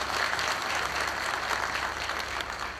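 Applause from delegates at a congress as a new president of its bureau is proposed, a dense, even wash of clapping that holds steady throughout without any voices.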